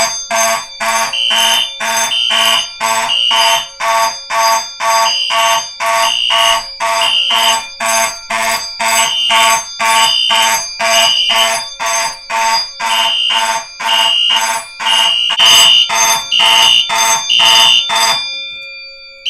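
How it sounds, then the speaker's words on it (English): A photoelectric smoke detector sounds during a test with smoke from a can, blaring a loud, piercing electronic beep in a steady repeating rhythm of short pulses for almost twenty seconds, alone and up close. "Looks like this smoke detector beat the ionization"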